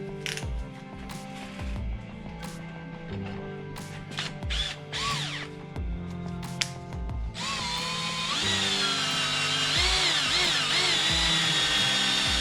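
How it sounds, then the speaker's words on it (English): A drill bores slowly into thick metal during a Coyote engine swap, a close whirring with shifting pitch and intermittent knocks and scrapes, rising into a louder sustained whine in the second half. "That is thick metal, so we're going to take our time and drill slowly"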